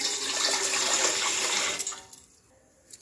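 Water gushes from a tap into a cooking pot as biryani rice is started, a close, splashing rush that cuts off after about two seconds, leaving only faint drips.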